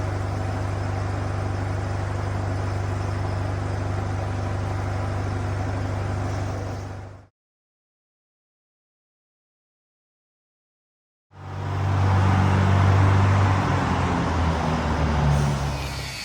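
A 52,000-pound rated Taylor forklift lifts a roughly 27,000-pound press brake onto a trailer, its diesel engine droning loud and steady with a low hum, cut by several seconds of silence before the heavy engine noise resumes.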